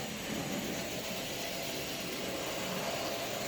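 A Marx 6-volt DC toy locomotive motor with a diode installed runs out of its shell, giving a steady, even whirring hum that holds without a break and with no voices.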